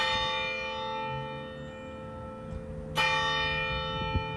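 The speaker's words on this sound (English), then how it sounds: "When the church bells rang Sunday at 11," Church bells ring with long, sustained overlapping tones, a fresh strike swelling clearly partway through, resonant and spacious without voices.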